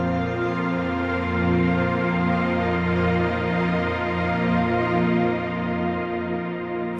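Vienna Smart Orchestra strings and ensemble pass through a delay effects preset, holding a loud, rich sustained chord with slowly swelling dynamics and a smeared, echoing tail, with no voices over it.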